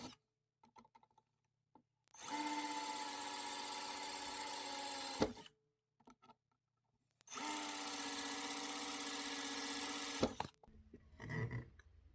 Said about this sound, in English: So I went ahead and drilled the holes.